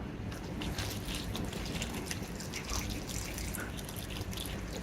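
Ramen broth poured into a bowl, a steady close liquid pour with dripping and trickling textures running continuously and fairly loud, with no talking.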